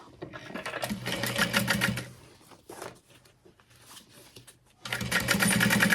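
A sewing machine stitches along a zipper on a sling bag made of water-resistant canvas. It runs in two bursts of rapid, close mechanical rattling with a short quiet pause between them.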